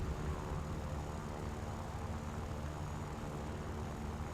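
A low-flying aircraft in the video game War Thunder gives a steady, even engine drone with no pauses.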